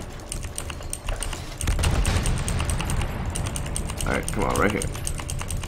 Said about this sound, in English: You might hear a lot of clicking, that's me trying to spot these guys as they're trying to leave.